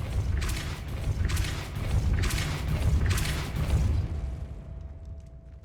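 The Depulso spell fires in the video game Hogwarts Legacy with a deep, rumbling boom and a series of whooshing bursts over about four seconds, then the sound fades out with a faint tail.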